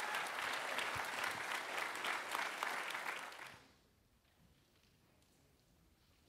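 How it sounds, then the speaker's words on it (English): A church congregation applauds baptism stories at a Sunday service, dense clapping for about three and a half seconds that fades away into near silence. "Would you give them another round of applause for their story?"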